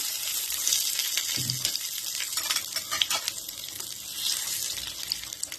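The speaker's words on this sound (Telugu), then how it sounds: "దీంట్లో అయితే పోపు వేసుకుంటున్నాను" A tempering of spices frying in hot oil for gongura chutney, a bright crackling sizzle with sharp spattering pops and a few clinks, close and fairly quiet, with no voices.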